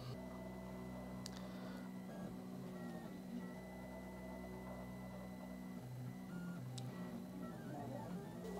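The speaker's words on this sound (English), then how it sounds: "So now it seems like it is correctly printing the first layer" A 3D printer lays down its first layer with steady whining stepper-motor tones that shift pitch as the head changes direction, over a constant fan hum, with a couple of faint ticks, close and continuous.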